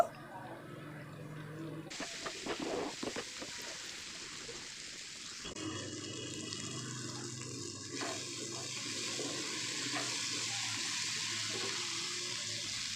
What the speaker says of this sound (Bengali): তো মশলাটাকে একটু ভালো করে 2 মিনিট কষিয়ে নেব